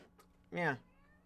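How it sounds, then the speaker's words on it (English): A cat gives a single clear, rising-then-falling meow, loud and close, with faint background noise before and after. "you just meow at me?"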